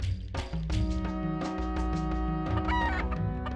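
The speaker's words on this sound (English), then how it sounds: "Oh man, there's chickens everywhere now." Chickens cluck in the Breath of Fire IV video game, layered over steady game music, with several short bird calls and clucks rising and falling across the loop.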